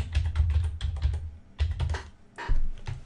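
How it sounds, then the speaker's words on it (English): Someone types a password on a computer keyboard, close and crisp, with quick clusters of key clicks broken by short pauses. "type in that user's password"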